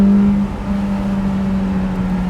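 Engine of a light Toyota MR2 Mk1 holding a steady, droning note from inside the car as it pulls hard in third gear, loud and continuous with no voices.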